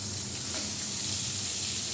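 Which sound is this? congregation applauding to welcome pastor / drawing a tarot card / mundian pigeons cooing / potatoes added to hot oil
potatoes added to hot oil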